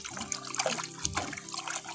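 Fungicide-mixed water is poured into the soil of a potted rose plant from a nursery, making a steady close trickle and splash for about two seconds with no talking.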